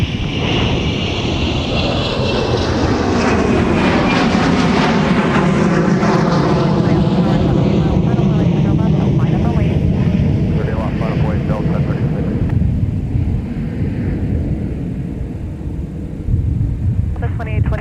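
A Boeing 717 jet taking off from runway 30 left, a loud swelling engine roar that rises and sweeps in pitch, then slowly fades, with a voice talking over it.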